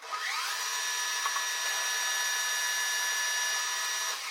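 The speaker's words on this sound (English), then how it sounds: "Let me feed a little faster, and that's what that end mill liked." An end mill cuts metal on a PM 1440TL lathe during off-center boring, giving a steady, high-pitched grinding whine that runs unbroken at close range with no talk.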